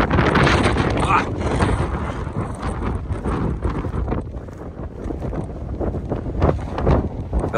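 Strong wind buffets the microphone outdoors at a selenite crystal digging site in Oklahoma, a loud continuous roar with gusty surges and rustling. A person speaks briefly over it.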